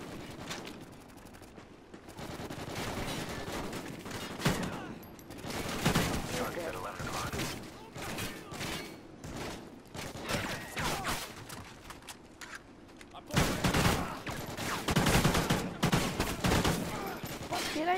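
AK rifle fire in Call of Duty Ghosts, repeated bursts and single shots crackling throughout a multiplayer match, with players talking over the gunfire.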